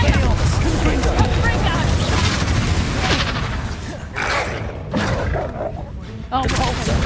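Loud, booming spell blasts from Expelliarmus and Confringo in the game Hogwarts Legacy crash over a dense, rumbling battle din, with several sharp bursts and brief dips between them.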